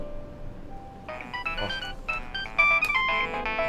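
A melodic mobile phone ringtone starts after about a second and repeats its tune clearly and fairly loudly in an otherwise quiet room, with no talking.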